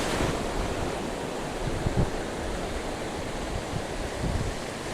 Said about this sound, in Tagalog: Masyadong malaki dito ang alon